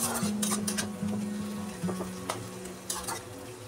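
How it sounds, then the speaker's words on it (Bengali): Pav bhaji vegetables stirred in a pot, with scraping, clinking metal taps and a few sharp knocks as a lid is set back on, close and moderately loud over a low steady hum. "আমি একটু নাড়াচাড়া করে আবারও আমি ঢাকনা চাপা দিয়ে দেব"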